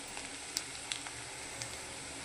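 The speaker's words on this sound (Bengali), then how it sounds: "মাছের তেল দিয়ে আজকে শাক ভাজা করছি, কলমি শাক ভাজা।" Water spinach fries in fish oil with a soft, steady sizzle and a few small pops, heard close and quiet with no talking.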